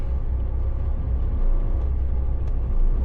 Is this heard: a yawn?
no